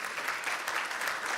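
Dense, continuous applause from a leadership conference audience for its guests, a steady wash of many hands clapping together at moderate volume with no speech on top.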